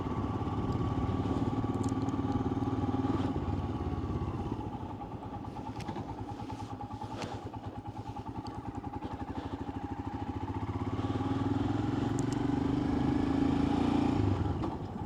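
A Royal Enfield Himalayan motorcycle being ridden, its single-cylinder engine thrumming steadily up close under wind rush, the revs dipping briefly midway before rising again.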